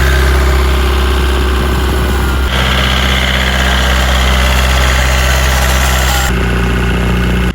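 A Citroën C3 engine runs hard at about 80 km/h with a loud, steady drone that fills the whole stretch and shifts in tone partway through.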